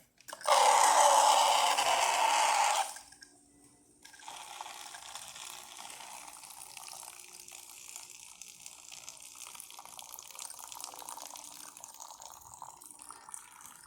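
A Saeco Incanto espresso machine dispenses hot water: a loud rush streams out for about three seconds, then drops to a softer steady hiss and trickle that continues to the end.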